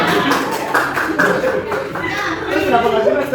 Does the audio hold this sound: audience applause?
yes